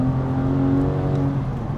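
RPM Technik CSR Porsche 911 flat-six with lightened flywheel and clutch revving freely, a loud steady close-up engine drone with strong harmonic tone holding throughout.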